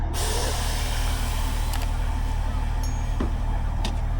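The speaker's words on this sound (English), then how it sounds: "there you go, it goes up. It's on air ride suspension" Air ride suspension lifts a Liberty Walk widebody Supra with a steady, loud pneumatic hiss over a low mechanical drone, plus a couple of faint clicks.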